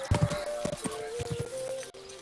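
Horse hooves clip-clop in a quick, uneven gait over a steady electronic hum during a horse ride in Kingdom Come: Deliverance II, with no talking.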